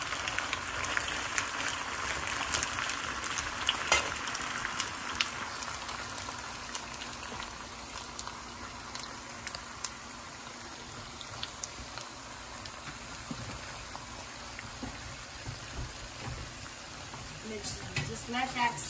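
Ground beef and pepper fry in a pan with a soft, continuous sizzle and scattered crackles, fairly quiet and close, with occasional stirring clicks.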